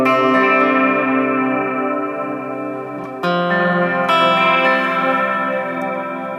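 An electric guitar runs through a Strymon Brigadier delay pedal, sustained chords ringing out as warbling, modulated repeats fade away, with a fresh strum restarting the swell partway through; no talking.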